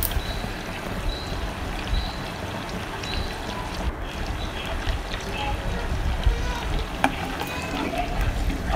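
Butter simmering down into homemade ghee in a pan gives a dense, continuous frothy sizzle, with steady stirring scrapes heard close and fairly loud throughout.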